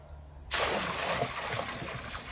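Water in a horse's water trough, kept circulating in freezing weather, starts splashing and sloshing abruptly and keeps up a steady, close, rushing wash.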